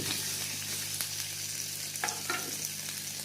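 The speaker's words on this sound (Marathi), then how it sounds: "छान मिरच्या परतून झाल्यावर त्यात घातले बटाटे" Boiled potatoes go into a pan of sautéed green chillies and fry with a loud, dense sizzle, broken by a few brief stirring scrapes near the end.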